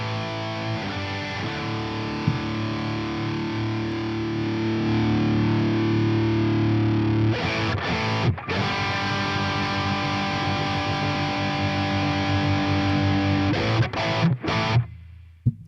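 Distorted electric guitar played through a Fractal FM3 Turbo's amp and cab model, thick sustained chords ringing out with a few sharp breaks and stops, loud and alone with no talking.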